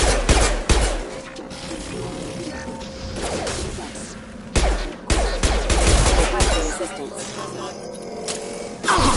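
Gunfire in a Mass Effect 2 battle on Omega: loud, close bursts of rapid automatic shots and impacts that stop and restart, mixed with game sounds and people talking.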